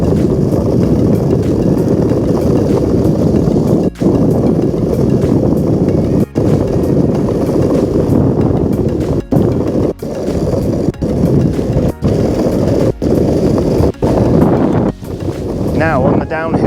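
Possway V4 Pro electric skateboard climbing uphill in power mode over stony ground, a steady loud rumble of wheels and motor with heavy wind buffeting the microphone, broken by a few sharp jolts.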